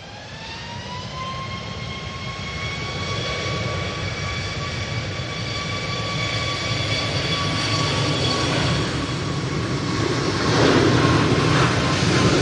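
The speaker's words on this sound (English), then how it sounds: "So next in will be the Easyjet from Hamburg" Easyjet airliner from Hamburg arriving at Manchester Airport in windy weather, a steady jet whine with a bright tonal whistle over rumbling engine noise, rising slightly and gusting louder near the end.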